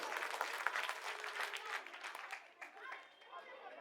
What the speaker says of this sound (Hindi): तालियां अपने लिए बजाइए।